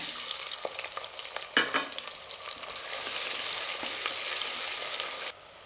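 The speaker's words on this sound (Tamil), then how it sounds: "இதை சேர்த்து நல்லா லேசாக செவந்து வர அளவுக்கு வதக்கிக்கணும்" Onions sizzle steadily in hot oil for Ambur chicken biryani, with a spoon stirring and scraping the pan now and then, the frying growing louder before cutting off.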